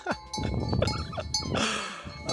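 A flock of sheep on a mountain pasture bleats in several short calls, while cowbells clink and jingle close by, with a brief rustle of movement.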